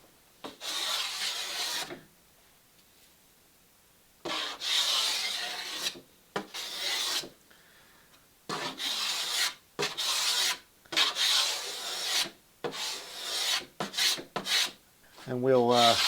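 A hand plane shaves wood veneer on boat planking during the broad planking of a Catalina Wherry, heard as a series of close, rasping strokes of one to two seconds each, separated by short pauses, with no speech.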